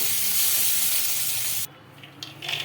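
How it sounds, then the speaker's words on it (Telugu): Chopped tomato and green chillies sizzle loudly in hot oil in a pan, a dense steady frying hiss that drops away abruptly partway through and then returns more faintly in short bursts. "ఇంకా పచ్చిమిర్చి టమాటా బాగా మగ్గాలి ఆయిల్లో"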